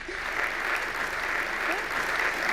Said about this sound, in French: j'appelle, sous vos applaudissements, Corinne Bourgerie